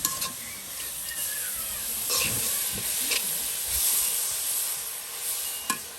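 Radish greens fry and sizzle in hot oil, a steady quiet hiss with a few brief stirring scrapes and pops, no talking.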